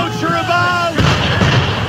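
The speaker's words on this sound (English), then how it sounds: "Why is he shooting at us?" Cannon-like musket fire booms out in Assassin's Creed III, one heavy blast cutting in under a raised voice, then a rumbling tail.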